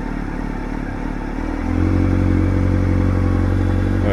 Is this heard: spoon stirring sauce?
no